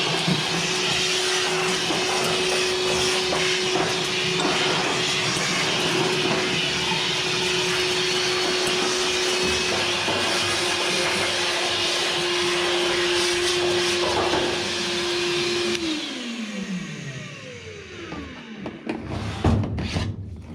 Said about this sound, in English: This is a little shop vac from Evolution Power Tools.